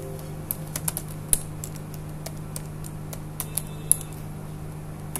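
Someone types on a computer keyboard, sparse, scattered keystroke clicks close by with short pauses between them, over a faint steady hum in a quiet room.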